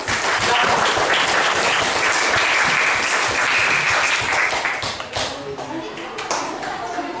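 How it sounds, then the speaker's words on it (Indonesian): Classroom applause for a group 6 representative, a dense sustained burst of many hands clapping together for several seconds, loud and close, thinning toward the end with some voices mixed in. "Kita beri aplaus dulu untuk perwakilan kelompok 6 ya"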